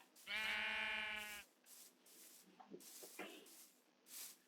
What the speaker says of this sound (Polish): O, kozy.